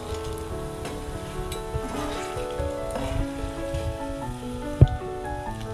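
Okra (ladies finger) frying in a pan, a dense crackling sizzle with scattered pops and occasional stirring, close and steady throughout, with one sharp clink near the end.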